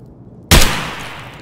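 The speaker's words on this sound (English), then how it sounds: "Try to shoot me in the vest, okay?" A single sharp gunshot in Escape from Tarkov, fired at a player's armored vest, bursts in loud and close after a quiet stretch, then a reverberant tail slowly decays.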